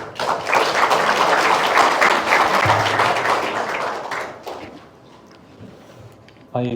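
An audience at a Korean organization's launch ceremony claps in a loud, full round of applause that gradually fades out, leaving a quieter room with a few thumps near the end.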